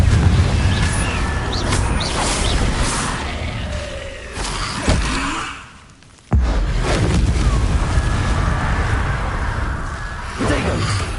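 Blasting fire spell cast repeatedly in the Hogwarts Legacy video game, a string of loud booming explosions and bursts over a dense, busy mix, briefly dropping out midway before the blasts resume.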